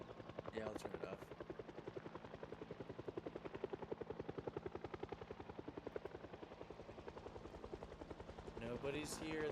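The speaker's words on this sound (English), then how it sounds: "when the helicopter's gone." A helicopter flies overhead, its rotor chop a loud, fast, regular beat that swells and fades over the whole stretch, while people talk and laugh beneath it near the end.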